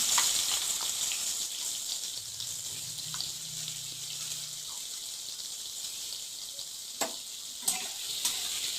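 Onion fries in a pan after potatoes, giving a soft, steady hiss of sizzling oil that stays faint throughout, with a few light clicks toward the end.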